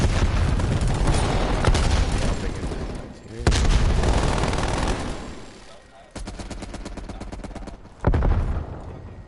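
Loud bursts of game gunfire, sustained rapid shooting with booming impacts and a fast rattling volley near the end, close and dense.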